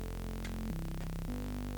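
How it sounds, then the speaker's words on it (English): A Serum synth plays a dense, hissing white-noise layer from its noise oscillator under a sustained buzzy bass tone that steps down and back up in pitch, steady and loud throughout. "We need to turn on the noise oscillator and add a little bit of extra noise to this. So we can go with some white noise."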